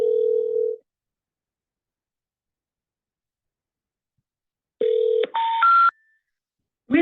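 A touch-tone telephone keypad beeps as a number is dialed: one tone, a long silence, then a quick run of distinct tones, each a clean, clear beep.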